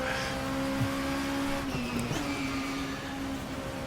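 A WTCC touring race car in the video game Race 07 spinning out at Curitiba, with a steady droning engine tone, a short scrubbing tire squeal midway, and other engines humming nearby, loud and continuous.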